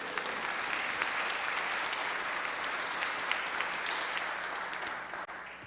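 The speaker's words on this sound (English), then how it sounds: "I'm willing to give up a little bit of my precious time for you to applaud yourselves again." Audience at a church conference annual meeting applauds in a sustained, even wash of clapping that holds steady for several seconds before tapering at the end.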